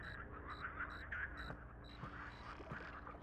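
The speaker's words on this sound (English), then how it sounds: "Oh, look at the little frog!" A small frog croaks in the horror video game The Cursed Forest, a steady run of quick, evenly spaced chirping calls over a low ambient forest drone, with no talking.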